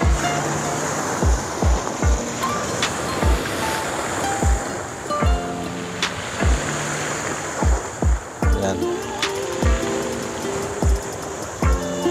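Ocean waves break steadily on a beach lined with rock formations, a rhythmic series of surges and washes with wind noise over the mic and no talking.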